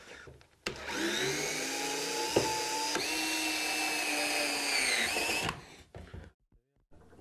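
A small Bosch GSR drill driver whirs close and steady, driving screws while a TV cabinet is built, one sustained motor whine for about five seconds with a brief knock midway, then a quick stop and quiet handling.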